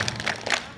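Children doing the rhythmic Tepuk malaikat clapping game, a dense patter of many small hands clapping together at a gathering before breaking the fast, busy and close with voices mixed in.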